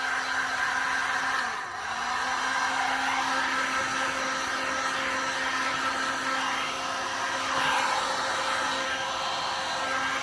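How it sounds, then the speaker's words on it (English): Heat gun blowing hot air on its high setting, a steady close whooshing roar with a faint tonal hum, holding constant with one brief dip near the start. "now I'm going to just grab my heat gun and I'm just going to give it just a tiny bit of heat"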